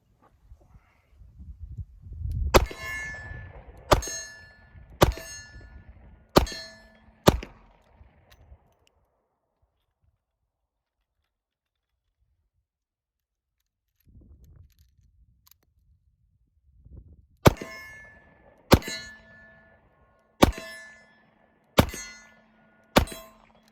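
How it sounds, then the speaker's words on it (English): Bullets striking a man-size steel silhouette target at about 15 yards with a revolver, five sharp ringing clangs in quick succession, a long quiet pause, then another string of six evenly spaced metallic hits. "I'm shooting at a man-size steel silhouette, about 15 yards right now"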